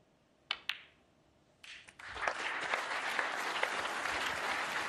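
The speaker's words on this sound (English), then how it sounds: "Applause for frame ball." Snooker crowd at the Crucible World Championship bursting into applause after two sharp clicks and a brief lull, then sustained clapping that continues to the end.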